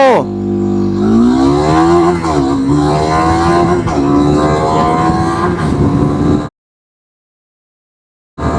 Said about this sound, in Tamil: zero to hundred three two one go